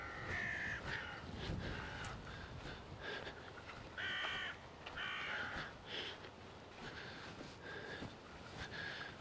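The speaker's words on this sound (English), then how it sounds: "Crows are up in here making a racket." Crows caw repeatedly from nearby trees, harsh rasping calls in uneven bursts, several birds overlapping over faint outdoor background with no talking.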